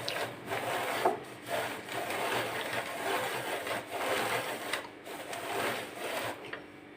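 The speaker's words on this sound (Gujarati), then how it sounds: "તો મશીનમાં આ રીતનો અધકચરો પાવડર આપણો બનીને તૈયાર થઈ ગયો છે" A hand-turned grinding machine crushes ingredients into a coarse powder with repeated rhythmic scraping and grating strokes, fairly soft and close, with short pauses between turns. No one speaks.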